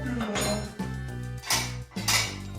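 Metal spoons and cutlery clink and rattle as they are lifted from a dishwasher rack, with a low steady hum underneath and a few distinct clattering bursts.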